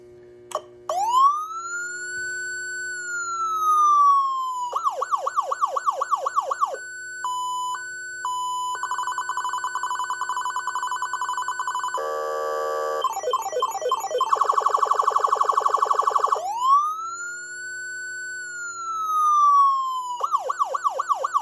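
A Federal Signal Omega 90 siren driven through a siren amplifier runs through its tones: rising-and-falling wails, rapid yelp bursts, steady and stepped alert tones, a warbling hi-lo and a harsh air-horn blast, loud and close with no talk.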